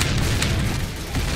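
A bomb explodes in a one-shot-mode shooting game, a short, loud, booming blast with a heavy low rumble that fills the whole moment and fades slightly toward the end.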